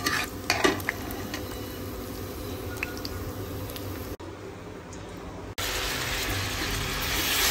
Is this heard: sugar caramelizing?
yes